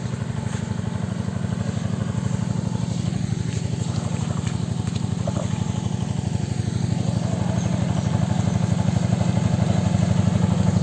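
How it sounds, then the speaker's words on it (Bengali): A steady, loud shallow-water pump engine on a trawler boat chugs continuously on a river with a fast, even rhythm, running throughout with no pauses. "এই যে সেলু মেশিনের ট্রলার চলতেছে নদীতে"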